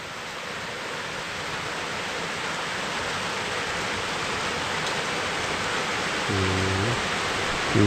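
Rain falling outdoors near rice fields, a dense, steady hiss that slowly grows louder, with a brief tonal sound near the end.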